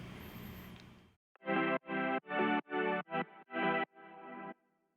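Layered synth chords from the Silent One plugin in an EDM progression, a run of six sustained, rhythmic stabs and then a longer held chord, heard alone with no talk.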